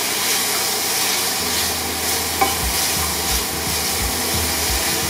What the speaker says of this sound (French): Et donc je laisse tout ça revenir ensemble.